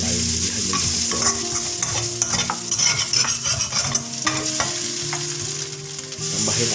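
Boiled kway teow noodles with egg are stir-fried in a pan, giving a loud continuous sizzle with rhythmic scraping and tossing of a spatula throughout, with no talking.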